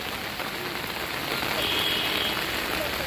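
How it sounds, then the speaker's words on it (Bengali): Heavy rain pours down in South Tripura near the swollen Muhuri river at Belonia during a flood threat, a dense, steady hiss of drops on surfaces that holds constant throughout with no voices. "পুরো সাউথ ত্রিপুরা জুড়ে প্রায় চব্বিশ ঘন্টা ধরে প্রচণ্ড বৃষ্টি হচ্ছে"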